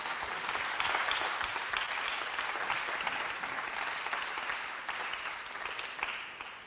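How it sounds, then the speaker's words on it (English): An awards-ceremony audience breaks into sustained applause, a dense, even wash of many hands clapping throughout, fading slightly toward the end. "Can we give a big, massive round of applause for life?"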